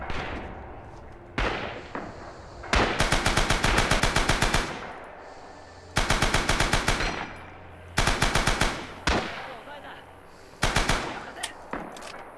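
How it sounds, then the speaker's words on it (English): Machine gun fire in the video game Rising Storm: repeated rapid automatic bursts, loud and close, with short pauses and separate single shots between them. "Here's a machine gun."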